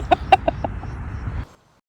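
Several chickens cluck close by at a chicken coop, sharp rhythmic bursts in the first half second, then a steady low murmuring background that cuts off abruptly after about a second and a half.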